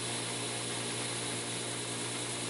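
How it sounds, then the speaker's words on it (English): A 2x72 belt grinder running a 400 grit belt grinds the secondary bevel on a knife, a steady loud whirring rasp that holds evenly throughout without speech. "we're going to get our secondary bevel ground in with this 400 grit belt right here on the 2x72"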